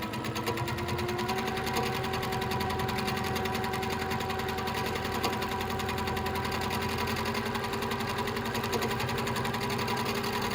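A sewing machine free-motion quilting continuously at a steady fast rhythm, close and loud, with a slightly rough mechanical rattle and no pauses.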